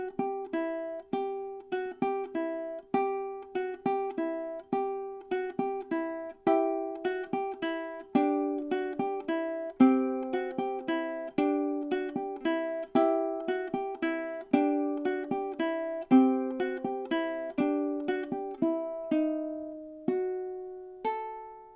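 Ukulele plucking the first stanza of Carol of the Bells, nice and slow, in a steady stream of single picked notes and the looping four-note figure, played alone and clearly with no talking.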